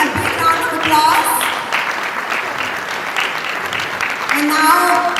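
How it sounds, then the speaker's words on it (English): Audience applause at an International Yoga Day celebration in Chicagoland, a dense steady clapping that runs throughout and swells near the end, with some voices mixed in. "let's all give him a big round of applause."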